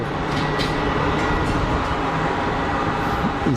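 An EasyJet airliner landing at Geneva Airport, a steady loud roar of engine and rushing air close by, unbroken and even throughout.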